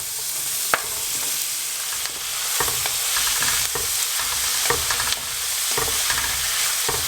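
Fresh bay leaves crackle and spatter in hot oil for a keema peas curry of minced lamb, with sharp pops over a steady sizzle, then stirring and louder frying as onions go into the pan, close and continuous.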